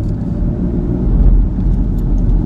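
A car drives through a neighborhood of a small rural Texas town, with a loud, steady low engine and road rumble from inside the vehicle and no talking.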